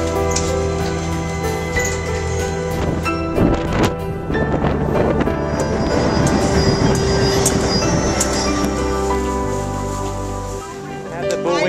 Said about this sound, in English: Greatest train ride ever,